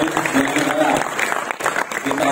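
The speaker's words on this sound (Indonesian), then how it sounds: "Tepuk tangan untuk CBR." Crowd applause at a public gathering in Purwakarta, steady clapping through the short stretch with voices mixed in.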